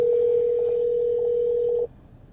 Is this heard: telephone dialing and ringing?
yes